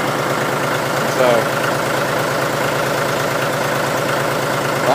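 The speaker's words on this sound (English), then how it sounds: "I'm just going to let the tractor warm up here for a minute or two." A John Deere 5103 tractor's diesel engine idles after a cold start, a steady low rumble with a faint rhythmic knock that holds evenly throughout, close by and alone.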